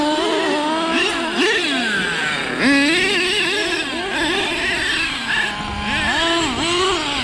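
A small, high-pitched nitro engine in an HPI Savage RC monster truck whines and revs up and down continuously, close by, with rapid pitch swings as it accelerates and slows.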